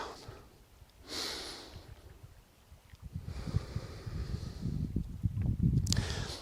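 Slow, deep breathing during a standing yoga session: several long, close inhales and exhales with soft airy rushes, growing fuller toward the end, with no talking.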